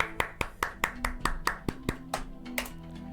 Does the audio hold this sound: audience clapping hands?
yes